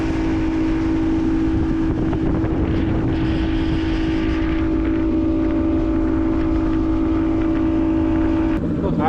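A small motorboat runs across the water with a steady, loud engine drone and a constant tonal hum, wind buffeting the microphone throughout and a brief change near the end.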